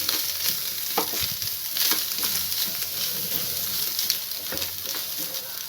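Onion mixture with Maggi masala sizzling steadily in a hot pan while a spoon stirs and scrapes through it, a loud, close, continuous fry with intermittent clinks and no talk.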